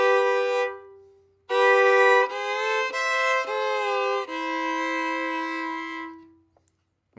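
A solo fiddle plays a slow break from a country song, sustained bowed notes in a few phrases separated by a short pause, clear and close with no accompaniment.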